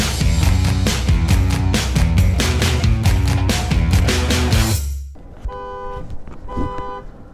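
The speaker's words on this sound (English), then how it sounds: "that guy's car alarm finally went off just due to the fact that his battery died" A car alarm set off by a dying battery blares loud repeated honks and electronic tones in rapid cycles, then drops to quieter pulsing beeps before stopping.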